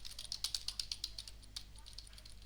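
Rapid typing on a computer keyboard, close and crisp, with a quick run of clacking keystrokes that thins into a few scattered taps.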